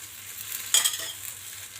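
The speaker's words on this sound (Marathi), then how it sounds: "आणि चारी बाजूने तेल सोडायचं असं." Oil sizzles softly around a Maharashtrian dhapate flatbread frying on a pan, a quiet steady crackle with a brief brighter burst of frying partway through, with no voices.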